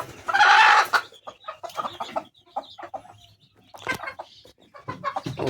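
Brooding hens on a farm hatching Chinese duck eggs cluck close by: one loud, drawn-out call, then a string of short, irregular clucks with quiet gaps.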